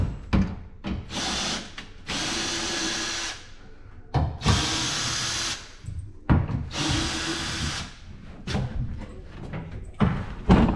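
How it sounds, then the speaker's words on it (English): Power drill backing screws out of a wooden deck, several loud bursts of whirring a second or two long, separated by short pauses, knocks and clunks. "we are going to remove these deck screws that keep poking me in the butt"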